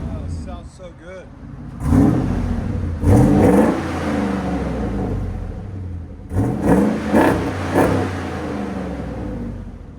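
Revving bursts from a 2005 Dodge Ram pickup's 5.7L HEMI V8 with a Flowmaster Flow FX exhaust, loud and close, rising in a few surges with idle rumble between while people talk over it.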